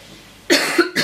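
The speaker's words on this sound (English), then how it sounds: "Oh, it's coughing." A cat gives two short, harsh coughs close by after a quiet moment, the second briefer than the first.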